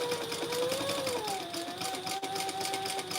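Sewing machine stitching fabric for small and extra-large necessaries, a steady whirring hum running continuously and close, with no talk.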